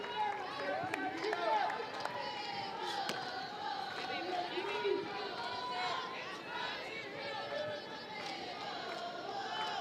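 A crowd fills the stands at a college softball doubleheader between Oklahoma and Texas A&M, a steady murmur of chatter with scattered louder shouts and cheers under the ongoing game noise.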